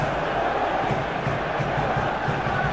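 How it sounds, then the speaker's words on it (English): Football stadium crowd at a Europa League match between Manchester United and FC Porto roars steadily after a defensive tackle, a dense, continuous wash of cheering and noise with no clear pauses. "the crowd clearly like what they just saw"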